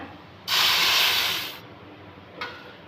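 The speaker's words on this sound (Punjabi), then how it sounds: "ਹਾਂਜੀ ਆਪਾਂ 2 ਕਿਲੋ ਦੁੱਧ ਪਾ ਲਿਆ ਇਹਦੇ 'ਚ" Milk is poured into a hot pan of lightly roasted vermicelli for kheer, setting off a loud sudden sizzling hiss that fades over about a second, followed by a brief second hiss.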